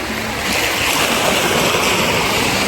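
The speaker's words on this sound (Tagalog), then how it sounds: "dito tayo sa may gilid ng dagat" Sea waves wash against the shore beside a pier, a steady rushing surf with some wind, no voices.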